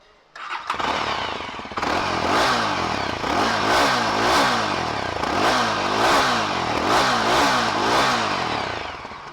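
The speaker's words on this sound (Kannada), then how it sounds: "ಒಂದ್ಸಲಿ ಎಕ್ಸಾಸ್ಟ್ ಸೌಂಡ್ ಕೇಳೋಣ ಬನ್ನಿ." A Yezdi Adventure motorcycle's exhaust blares close by as the throttle is blipped repeatedly, the engine surging and dropping in rhythmic revs after a brief start-up, loud and steady for several seconds with no talk.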